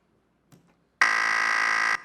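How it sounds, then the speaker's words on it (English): A game show contestant's buzzer sounds in one loud, steady electronic tone lasting about a second, preceded by a faint click of handling. "Let's test your buzzer."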